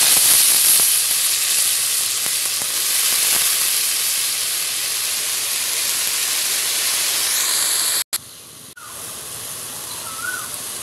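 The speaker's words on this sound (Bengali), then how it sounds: "এবার দিয়ে দিব গোটা জিরে সামান্য পরিমাণে, দিয়ে দিব আলুগুলো।" Cumin seeds and potatoes sizzle loudly in hot oil, a steady, close, bright hiss that runs unbroken for several seconds, then drops abruptly and resumes softer.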